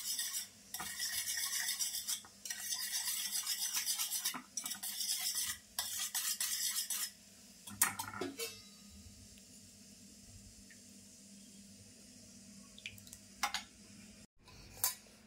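Soaked urad dal and rice mixture is mashed and stirred in a vessel, making dense scraping and squelching for several seconds. The sound breaks off, resumes, then fades to a quieter kitchen background with a few faint clinks. No one speaks.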